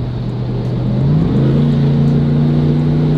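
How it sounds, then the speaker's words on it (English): A supercharged car accelerating at full throttle, its engine drone loud and close, rising steadily in pitch with a brief dip as it shifts, then pulling hard again. "absolutely floor the gas for a minute"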